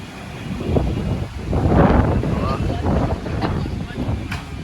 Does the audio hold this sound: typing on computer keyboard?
no